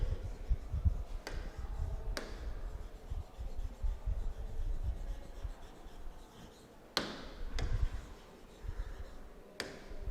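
Pen strokes scratch across paper in a school English class, with soft continuous rubbing and a few sharp taps between passages of writing, close and fairly quiet.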